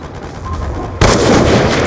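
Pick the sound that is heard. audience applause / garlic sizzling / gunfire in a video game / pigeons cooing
gunfire in a video game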